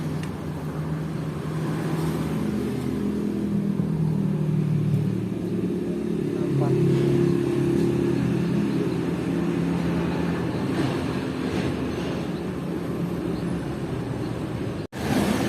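A Honda CB motorcycle with a stock head and small carburettor runs steadily, its engine note swelling slightly mid-clip and holding a continuous droning level, then cutting briefly near the end.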